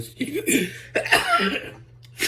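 A few harsh, congested coughs from a cold, close to the microphone, separated by short pauses, with a steady low hum underneath.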